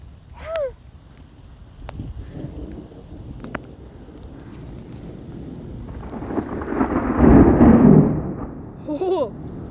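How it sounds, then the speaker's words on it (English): Loud thunder rolls through a huge thunderstorm in Alberta, Canada, swelling into a heavy, booming rumble near the end, with a few short exclaimed voices at the start and close. "today guys, there's a huge thunderstorm"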